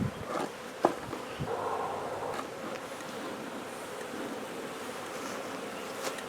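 Honey bees around an open hive, a continuous close buzzing drone of many insects with a few knocks and shuffles from handling, no talk.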